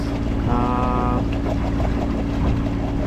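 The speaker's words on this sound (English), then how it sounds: "Motor sailing now." A sailboat motor sailing far offshore on Lake Michigan at about 6.5 knots, its engine giving a constant low drone mixed with wind and water noise, close and fairly loud.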